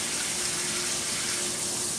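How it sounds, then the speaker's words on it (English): Water gushes steadily from a pulled-out lab eyewash station hose with a squeeze handle, a loud continuous rushing spray with no voices. "These are on a hose so they can be pulled out, and squeeze the handle, water will come out"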